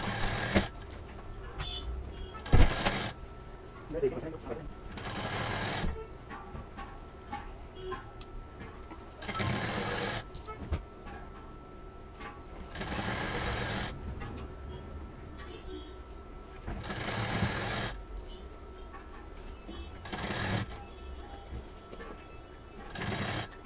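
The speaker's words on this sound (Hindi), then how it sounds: "अब इसमें हम पहले जो सिलाई है यहाँ पर एक दाब मशीन चला देंगे बराबर से रखते हुए" A sewing machine stitching the seam of a reversible cloth shopping bag runs in several short bursts of rapid mechanical ticking, separated by quieter gaps where a person talks.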